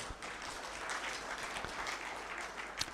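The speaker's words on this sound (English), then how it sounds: "Can we clap for ourselves?" Steady applause from an audience at an IU university career fair, dense and continuous for about three seconds with no voices on top.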